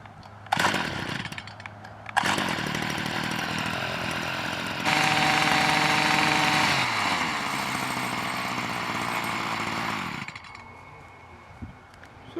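A two-stroke Stihl garden tiller engine is pulled and catches, then runs loud and buzzy close by, revving higher for a few seconds before settling back down and cutting off near the end.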